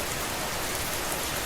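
Continuous pure rainfall pattering down, an even, dense hiss of drops on surfaces filling the whole moment, moderately loud and unbroken, with no voices.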